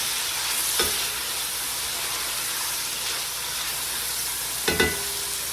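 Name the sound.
leeks cooking in bacon fat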